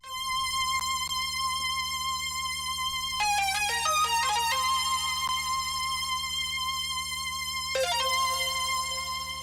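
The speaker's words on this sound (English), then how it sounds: "we will take a quick listen to the super saw lead" A bright, buzzy super saw synth lead plays quick melodic phrases over a steady sustained backing, loud and close, with no talking.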